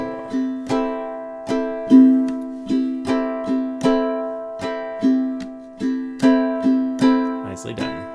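Ukulele strummed in a steady rhythmic pattern for a song, ringing chords with sharp repeated strokes and accents, played alone and close with no talking.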